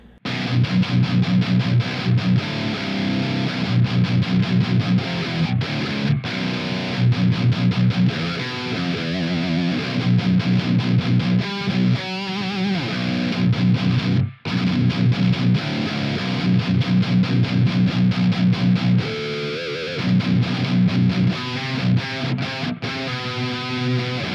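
Heavily distorted Epiphone Les Paul Custom Pro through a 5150 amp simulation in BIAS plays chugging palm-muted riffs with brief pauses and bursts, loud and continuous with a saturated, high-gain tone.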